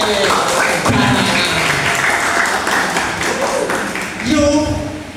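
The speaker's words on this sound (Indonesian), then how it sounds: "Tepuk tangan." Applause from an audience at a university talk on Banten culture, a dense steady clapping wash lasting several seconds with voices mixed in, swelling briefly near the end.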